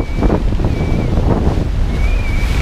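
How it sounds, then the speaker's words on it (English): Heavy ocean waves in a gale while sailing from Iceland to the Faroe Islands, a loud, continuous roar of surf and wind buffeting close to the boat, with a thin whistling tone in the rigging coming and going. "Big waves."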